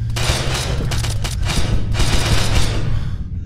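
Dense, rapid automatic gunfire from a P90 submachine gun in a video game, a loud continuous burst of overlapping shots close up with no talk over it.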